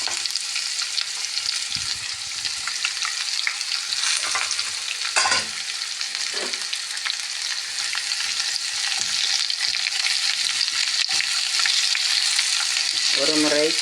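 Chopped vegetables for Kanyakumari wedding-style aviyal hit a hot pan and are stirred, a continuous bright sizzle with occasional scraping stir strokes, close and steady throughout with no talking.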